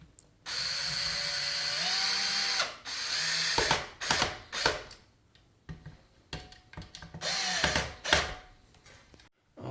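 A power driver sets screws into a ceiling fan at low speed and low torque, with several whirring bursts of the motor broken by ratcheting clicks and short pauses, close and fairly loud with no talk.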